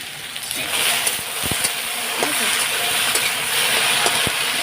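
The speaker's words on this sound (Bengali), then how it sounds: "আর আলুটাও ভেজে নিচ্ছি" Potatoes fry in a pan, a steady sizzling hiss with a few soft clinks and scrapes, fairly close. Other cooking goes on nearby, and there is no talk.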